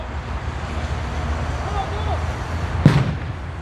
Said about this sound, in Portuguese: o colocaram em um buraco escavado e preparado para suportar a explosão do artefato